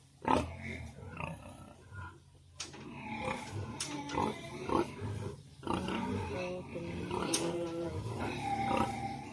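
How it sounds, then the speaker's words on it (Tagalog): A sow and her piglets on a farm grunt and squeal in a busy, close-up cluster of overlapping calls, with sharp squeaks and low grunts running throughout. "ito naman po ang inahin at ang mga biik niya"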